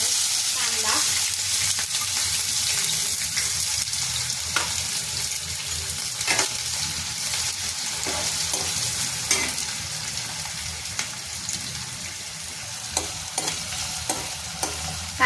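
Onion sizzling and frying in hot oil in a kadhai, a steady close crackling hiss with occasional stirring scrapes and pops throughout.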